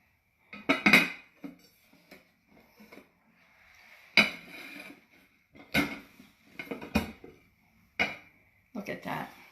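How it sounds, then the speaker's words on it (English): A turtle fudge cake is flipped out of a skillet onto a pan, heard as a series of loud, close metallic clanks and knocks separated by short quiet gaps, with a person talking in between. "we are going to take this and flip it onto this pan"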